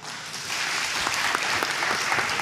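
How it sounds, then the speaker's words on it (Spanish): Loud applause from an audience at a community talk on biological waste. It swells in after a quiet start and holds as a thick, steady wash of clapping. "fuerte ese aplauso"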